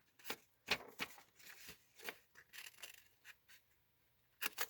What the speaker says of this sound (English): So what I like to do is just kind of fold it and then start like that with my paper snips.